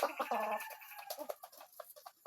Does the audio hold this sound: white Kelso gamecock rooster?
yes